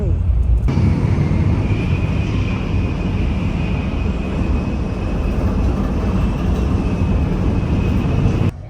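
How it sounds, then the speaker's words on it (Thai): Steady, loud interior rumble of a Shinkansen high-speed train travelling from Tokyo to Osaka, a constant broadband roar with a faint whine running throughout and no pauses. "เพราะว่าเป็นชินคันเซ็น ความเร็วสูงนะ ก็จะไวนิดนึง"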